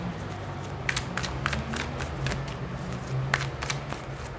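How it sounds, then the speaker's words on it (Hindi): Tarot cards are shuffled by hand, a run of quick riffling bursts and soft flutters up close, repeating in short clusters over a low background hum. "One more shuffle aqua."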